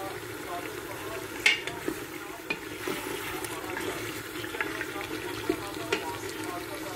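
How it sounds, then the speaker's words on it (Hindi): Lamb feet (paya) dropped into a pan and frying, a soft continuous sizzle with a few sharp clinks and splashes, moderately quiet and close, with a little speech around it. "और ये अब पाए डालते हैं, अब इसको 15 से 20 मिनट में भूनेंगे"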